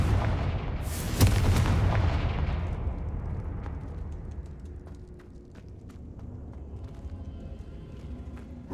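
A Confringo fire spell detonates in Hogwarts Legacy, a loud explosive boom with a crackling burst that swells and then fades into rumbling debris and scattered small crackles over several seconds.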